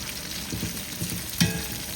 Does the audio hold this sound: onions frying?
yes